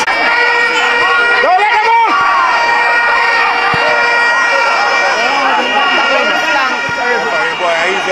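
At a schoolboy football match between STETHS and Clarendon College, a large crowd cheers and shouts continuously at half time. Shrill horn or whistle blasts and voices ring out over the dense, loud roar of the crowd.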